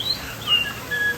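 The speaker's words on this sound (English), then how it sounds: "Suddenly, the treetops explode in a frenzy of outraged birds." Bird calls from a theme park ride effect, outraged birds bursting from treetops, come as a few thin chirps and whistles over a steady background hiss, brief and moderately loud with no talking.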